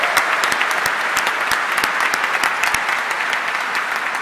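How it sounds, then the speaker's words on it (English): Graduation crowd in Rochester Cathedral applauding the graduates of the Greenwich Class of 22, loud, continuous clapping with sharp individual claps standing out through the reverberant hall. "give a rousing round of applause for the graduates of Greenwich Class of 22."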